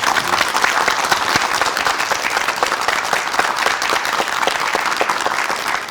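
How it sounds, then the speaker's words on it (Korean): A studio audience at a Korean morning TV talk show applauds in loud, dense, continuous clapping that holds steady throughout, with no voices over it. "박수로 강의 청해 주시기 바랍니다"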